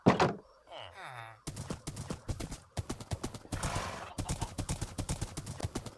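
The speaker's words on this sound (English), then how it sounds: "Let's take our horse for a ride." Horse hooves clip-clopping while riding in the Minecraft video game, a quick, rhythmic run of close hoofbeats after a brief whinny and a few game thunks, with a voice talking briefly near the start.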